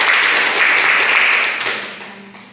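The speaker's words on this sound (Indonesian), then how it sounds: "Berikan aplaus untuk kelompok 1." Applause from a group at a classroom or church study session, a steady loud clatter of many hands that gradually fades out.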